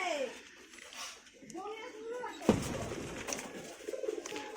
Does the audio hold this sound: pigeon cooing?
yes